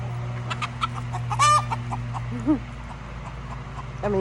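Chickens, including roosters, cluck and call in short bursts around a farmyard, with a steady low hum underneath and a dog-like bark mixed in.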